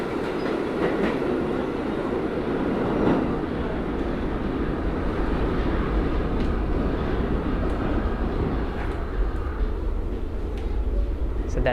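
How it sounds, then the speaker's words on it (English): A New York City subway train pulls into the deep 191st Street station in Washington Heights, a loud sustained rumble and wheel roar filling the platform with faint clacks throughout. "Train is coming."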